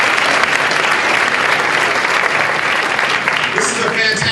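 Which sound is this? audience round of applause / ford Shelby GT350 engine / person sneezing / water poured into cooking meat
audience round of applause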